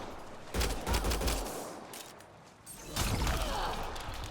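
Gunfire from a sidearm pistol in the sci-fi shooter Mass Effect Andromeda, played on PS4 on the dying jungle planet Havarl: two loud bursts of rapid shots, one near the start and another toward the end, with a quieter stretch between.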